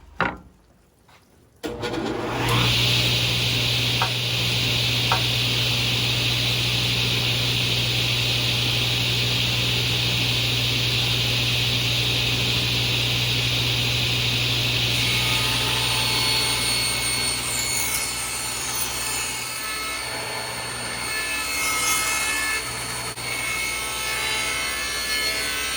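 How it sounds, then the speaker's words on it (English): A power saw cuts a faux tin ceiling panel to clear a door casing, a loud steady whine running continuously for about twenty seconds after a brief quiet start, its tone shifting slightly near the end. "Now I'll come in, cut here to remove this piece."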